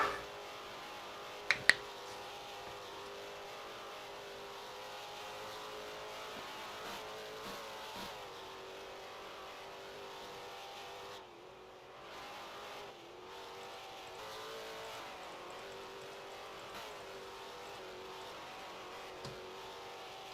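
Foxbody race cars lapping Laguna Seca in a racing video game, steady engine drone with shifting pitch from several cars, moderately loud and continuous, with a couple of sharp clicks early on.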